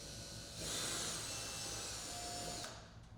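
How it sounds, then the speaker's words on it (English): A power drill bores a hole through a roof rack backbone for a Polaris Ranger XP 1000, a steady whine rising sharply, holding for about two seconds, then cutting off, fairly close with no voices. "drill a hole through the center hole marking"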